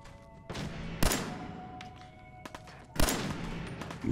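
Gunfire in the video game Fallout 4: several sharp shots crack out at irregular intervals, with two louder, closer bursts standing out against a low ambient backdrop, and no talk.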